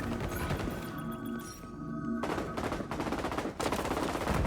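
Gunfire from a marksman rifle in the shooter game XDefiant: loud, dense shots cutting over a steady game soundscape, with a brief lull in the middle before the firing resumes.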